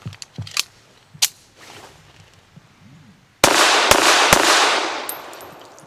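Shots from a Llama Micromax .380 1911 pistol firing SMB 92-grain brass-cased ammunition ring out at an outdoor range: a few sharp reports early on, then a louder close cluster of three quick shots followed by a fading echo.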